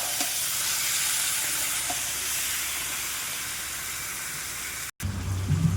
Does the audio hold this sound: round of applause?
no